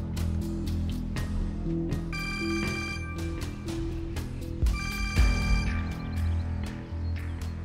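A telephone rings in bursts of electronic bell tones, loud and close, with a steady background murmur and no clear talk.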